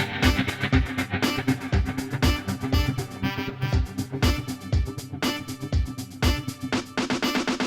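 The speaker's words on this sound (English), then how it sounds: "Rather than a guitar type strum, let's add the step effect." In Logic Quick Sampler, a sample runs through a step effect, chopping it into a dense, rhythmic pattern of loud pulsing hits with a regular low thump beneath, continuous for several seconds.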